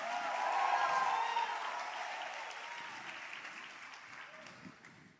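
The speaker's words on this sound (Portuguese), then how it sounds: "Dá um aplauso ao Senhor." A church congregation applauding, a full wash of clapping that swells early, then slowly thins and fades over several seconds.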